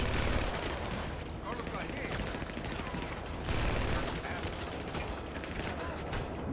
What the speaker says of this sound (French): Mais je me fais tirer dessus, c'est chaud pour ma gueule.